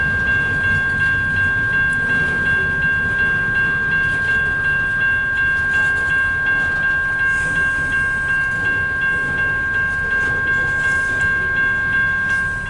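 CN westbound mixed freight train cars, including a lumber car, rolling slowly past at close range, a steady loud rumble with rhythmic wheel clatter and a sustained metallic squeal tone running throughout, no talking.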